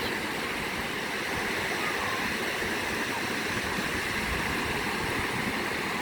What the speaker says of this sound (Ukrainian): Легесенький прибій.